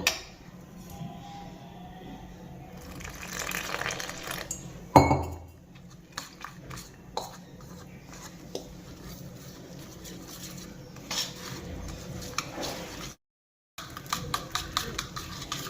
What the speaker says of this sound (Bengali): এবার আমি অল্প অল্প করে জল দিয়ে একটা ব্যাটার বানিয়ে নেব